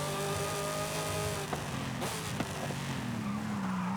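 A drift car engine in Forza Horizon 5 revs loud and sustained, its droning tone sliding in pitch with shifts and surges, with no talking.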